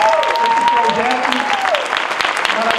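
Sustained round of applause from an audience at a factory's anniversary event, steady clapping filling the whole stretch with a voice speaking over it.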